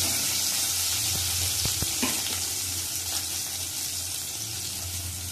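Tomatoes sizzle in an oily pan for a Satputi monsoon vegetable dish made without onion or garlic, a steady close frying hiss throughout with a few brief clinks of a utensil.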